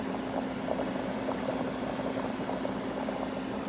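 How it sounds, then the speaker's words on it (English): Potatoes and carrots boiling in a pot of water, a continuous bubbling and rolling simmer with a faint steady hum, close and even throughout. "you want to boil these until they both become soft and tender"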